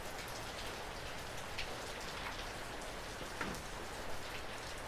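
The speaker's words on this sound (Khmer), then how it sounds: "អូមកភ្លៀងខ្លាំង" Heavy, gusty rain in Northern California beats down in a dense, even roar of drops hitting surfaces, constant and enveloping, with no voices.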